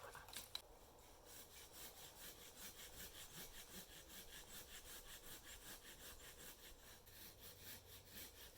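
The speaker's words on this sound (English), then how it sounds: "I'm using two different saws here, but slowly coming along." A hand saw cutting through wood in the bush at a cabin, with steady back-and-forth strokes in an even rhythm, faint and a little distant, heard alone without talk.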